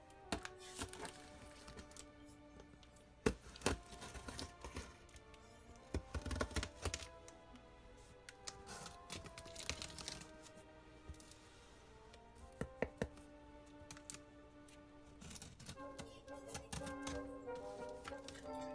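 A heavy package is cut open along its sides, giving irregular sharp cracks, thunks and scraping clicks, close and fairly quiet, with a busy cluttered background.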